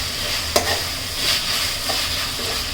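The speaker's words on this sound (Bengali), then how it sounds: "মোটামুটি পেঁয়াজগুলা একদম বাদামি কালার হয়ে আসছে।" Onions frying in a pan for a beef curry, stirred as they turn brown, give a steady broadband sizzle with a sharp scrape of the spoon near the start. Brief stirring clatter follows, and no one speaks.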